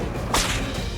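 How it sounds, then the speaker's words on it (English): A single sharp crack from a leather bullwhip fitted with a fall and cracker, loud and close, with a brief swishing whoosh as the lash snaps. "to make the whip actually crack, attaches 2 thin strips called the fall and the cracker"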